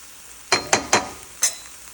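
Okra (bhindi) pieces frying in a pan over a raised flame, heard as four short, sharp sizzling bursts, three close together and one slightly later, over a faint steady hiss.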